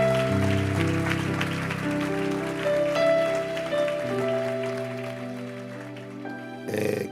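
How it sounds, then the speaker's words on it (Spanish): A church congregation at a Christian marriage convention applauds, the clapping sitting under sustained organ or keyboard chords, with a brief louder burst of sound near the end. "Dale fuerte ese aplauso al Señor"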